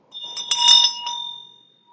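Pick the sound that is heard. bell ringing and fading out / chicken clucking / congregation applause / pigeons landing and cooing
bell ringing and fading out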